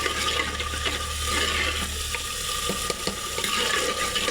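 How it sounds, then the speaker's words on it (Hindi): Mash dal lentils fry in hot oil for dhaba-style dal, a busy bubbling sizzle with scattered crackles and occasional scrapes, close and fairly loud, with no talking. "अब हम इस दाल को फ्राई करेंगे इस ऑयल में।"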